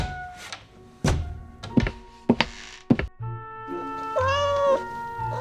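A cartoon cat in a Marathi fairy-tale story gives a short, clear meow near the end, after a few dull thumps and knocks.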